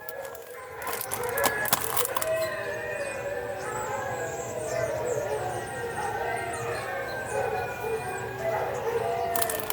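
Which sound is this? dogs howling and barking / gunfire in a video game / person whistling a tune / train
dogs howling and barking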